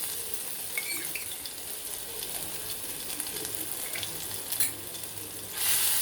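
A paste of ginger, garlic and chili sautés in hot oil with a soft, continuous sizzle, faint and close, with a brief clink near the end.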